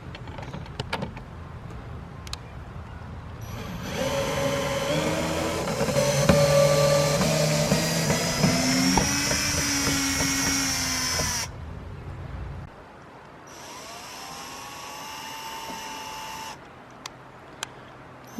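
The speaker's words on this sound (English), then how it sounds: "using the drill, screwdriver drill to put the screw in" A cordless screwdriver drill drives screws into a Mailmaster Hudson planter mailbox during installation, with two sustained whirring runs of several seconds each, the first longer and rising in pitch under load, separated by a brief pause and a few faint clicks.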